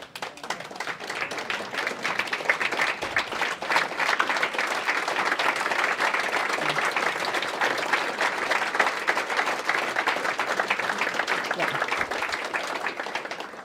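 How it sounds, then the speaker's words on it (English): A standing audience at a regional volunteer awards ceremony gives sustained, dense applause that holds steady for several seconds before tapering off. "Please all stand up and let's give them a round of applause."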